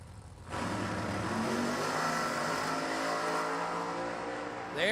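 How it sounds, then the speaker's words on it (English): Chevelle funny car launching down a drag strip: after a brief lower idle, the engine erupts into a loud, sustained roar that holds steady for several seconds, close and dominant, with a new surge rising right at the end. "they know how to get that Chevelle down the racetrack fast, quick, and in a hurry"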